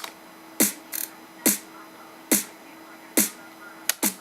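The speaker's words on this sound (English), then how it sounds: "Simple snare and clap." Simple snare and clap drum samples striking in a steady repeating pattern, crisp bright hits roughly every beat with a doubled flam near the start and end, over a faint low hum and no voices.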